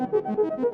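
A modular synthesizer with two sequencers in random mode gating VCAs, giving a quick run of short, stepped tones that jump unpredictably in pitch, moderately loud with no voices.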